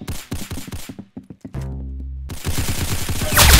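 Rapid bursts of gunfire ring out in the video game Arsenal, a string of sharp close shots followed by a sustained loud automatic burst with a low droning tone, then a dense rattling volley that swells louder toward the end.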